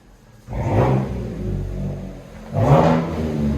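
A car fitted with a Flowmaster Super 10 muffler revs twice, loud and close, each throaty rumble climbing and then settling back to a deep idle between the pulls.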